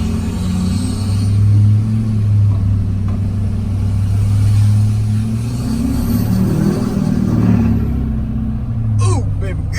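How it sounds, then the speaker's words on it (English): A tuned Duramax diesel truck rumbles with a throaty exhaust, revving up and easing off in slow waves of deep engine drone, close and loud, with a short squeal near the end. "Gets that throaty exhaust sound quick."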